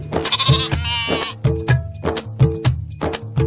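Cartoon sheep bleat loudly and repeatedly in a bouncy rhythm with a steady beat, close and clear, with no talking.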